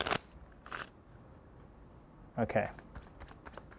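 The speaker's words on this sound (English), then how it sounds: "Quickly shuffle up the cards." A deck of playing cards is shuffled quickly during a magic routine, giving a few short crisp riffling bursts close by, with a brief spoken word in between.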